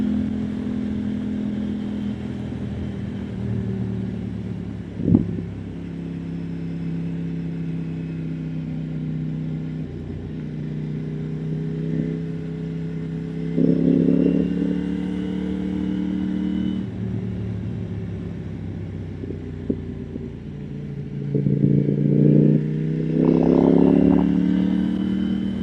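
A KTM Duke 890R motorcycle ridden on winding backroads strewn with gravel and debris, its engine humming steadily up close with repeated rises in revs and brief throttle surges, under wind noise and without talk.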